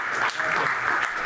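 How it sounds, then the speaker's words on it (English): Dense audience applause for volunteers at an awards presentation, a steady wash of many hands clapping with no pauses, moderately loud and sustained throughout. "So give a round of applause to Cece and all the volunteers."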